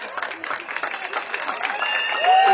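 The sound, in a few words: guests applauding at a Gabonese customary wedding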